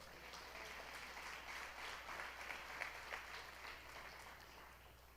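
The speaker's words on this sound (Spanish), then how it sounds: "Dale un aplauso a Dios por eso." Applause from a church congregation during a Spanish-language sermon, a steady, fairly faint patter of clapping that holds for several seconds without talk over it.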